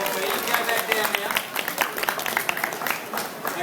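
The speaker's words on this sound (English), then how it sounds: "Give her a big clap, folks" Audience applause ringing out after an alpaca has been shorn at a shearing demonstration, a steady dense clatter of many hands that keeps going through the whole stretch.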